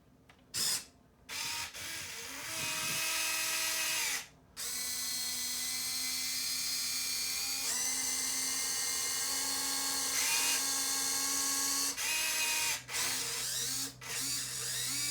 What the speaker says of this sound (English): it seems like the servos are just a little noisier than I was expecting them to be